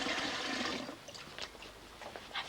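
Water gushes steadily from a household tap, a loud rushing flow that eases to a softer trickle with a few splashes.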